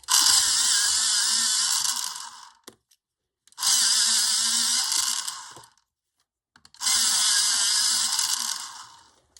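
Coloured pencils are ground in an electric pencil sharpener, three close, loud whirring bursts of about two and a half seconds each, separated by short silences, with no voices.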